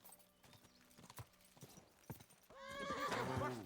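A horse in the medieval game Kingdom Come 2 clops along with scattered, separate hoof strikes, then lets out a loud, drawn-out whinny close by at the end.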